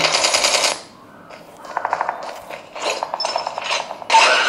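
Gunfire in the BGMI/PUBG mobile game on a Realme Pad Mini tablet: rapid automatic bursts in several clusters with short gaps, crisp and loud, plus faint mechanical clicks.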